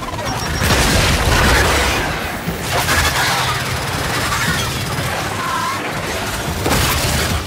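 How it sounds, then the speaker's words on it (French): A loud, booming explosion erupts in the Gears 5 shooter, followed by crashing debris and scattered bursts of gunfire that keep rumbling on for several seconds. "Attention à l'explosion!"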